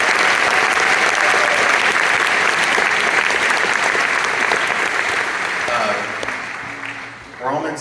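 An audience claps at a 20th anniversary concert. The applause is loud, dense and sustained, then thins and fades near the end as a voice starts to come through.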